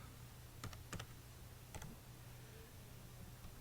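Numbers typed on a computer keyboard for an Excel spreadsheet, a few quiet, quick key clicks in small bursts over a faint steady hum, close and with no talk.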